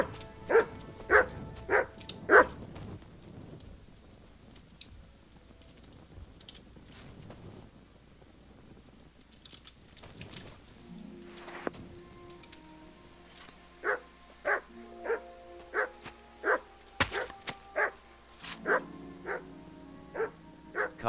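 Dog in the medieval role-playing game Kingdom Come: Deliverance II barking in short sharp bursts, a few at the start and a rapid series later, with scattered thuds and faint game ambience between.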